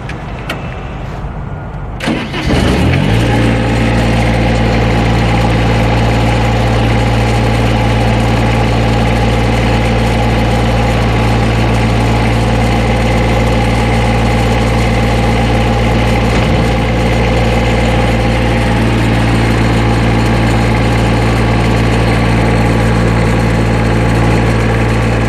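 Amazone Profihopper 1250 four-wheel-drive mower with a 25 horsepower three-cylinder diesel engine starting up and then idling loudly and steadily close by, a constant low drone with no talk.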